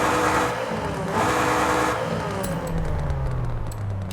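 A customized car in Forza Horizon 5 revs hard, its intake roar and exhaust note rising in a loud, steady engine drone that climbs in pitch toward the end, with no talking.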